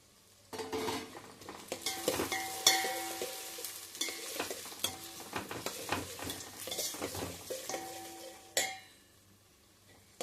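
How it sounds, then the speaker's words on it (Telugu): Thinly sliced onions fry in a pan, with steady sizzle under frequent scraping and clinking from a metal spoon stirring against the pan. The sound is close and busy throughout, then tapers off at the end. "ఈ ఉల్లిపాయలు బాగా రెడ్డిష్ కలర్లో రావాలండి, అలా వేగాలి."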